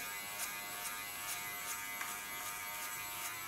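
Hair clipper buzzing steadily while shaving a head, with a faint even electric hum and light periodic pulses as it passes over the scalp, quiet and close.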